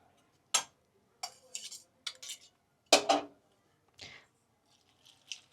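A spoon scraping and clinking in a pot as gram flour is stirred into kadhi, a series of short, sharp, close scrapes and taps with gaps between them.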